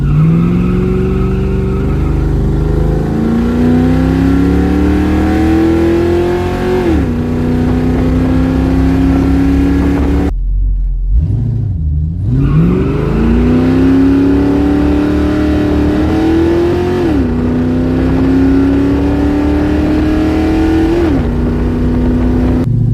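A car with 3.55 rear gears accelerates hard, its engine loud and close, pitch climbing in long sweeps through shifts, with a brief drop and recovery midway as the tires spin; no voices.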